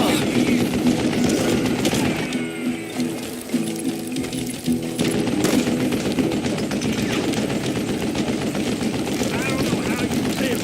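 An old man fires a mounted gun in Call of Juarez: Gunslinger, a rapid mechanical rattle of automatic fire that runs almost nonstop, loud and close, with a brief lull midway and a voice talking over it.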